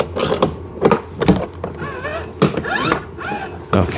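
A fitting on a kids' 24V two-seater 4x4 ride-on car is cranked tighter, giving short bursts of close mechanical ratcheting and clicking with brief pauses between turns.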